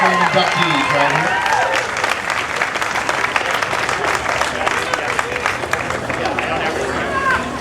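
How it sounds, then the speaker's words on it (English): A crowd of fans applauds Hall of Fame inductees at a surfing awards event, dense sustained clapping mixed with cheers and babbling voices, loud and continuous throughout. "Round of applause for our Hall of Fame inductees right here."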